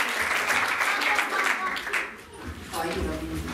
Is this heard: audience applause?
yes